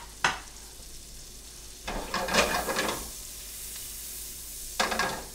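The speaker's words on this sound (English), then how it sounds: "we're going to start out with sauteing some onions. And when you saute, you always want to have a high heat." Onions sautéing over high heat in a pan for a Provencal sauce, a steady sizzle with bursts of louder frying and stirring as food is moved around, close and unaccompanied by talk.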